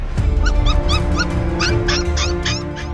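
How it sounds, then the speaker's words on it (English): A puppy whimpers and yelps in a steady series of high, plaintive cries, close by, over a low background hum. "They went close to him and he was continuously crying."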